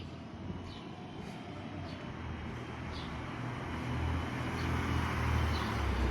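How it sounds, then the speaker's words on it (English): A car on a street draws near and comes to a stop, its low engine and tyre rumble growing gradually louder over steady background traffic noise. "This car pulled up and stopped at a sync place."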